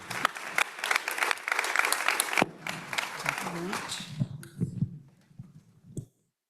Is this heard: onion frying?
no